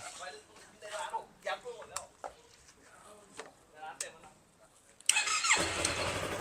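Voices talk over faint clicks before a 2015 Yamaha YZF R3 motorcycle engine fires up near the end and settles into a loud, steady idle.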